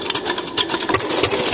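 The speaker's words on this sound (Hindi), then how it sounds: "देखो यो भैया चालू पुराने जमाने देसी इंजन" An old-fashioned desi engine runs close by with a fast, steady mechanical chatter and rattling beat, loud and continuous with no talk over it.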